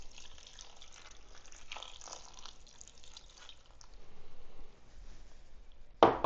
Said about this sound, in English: we're also going to add 1 cup of beef broth to the mix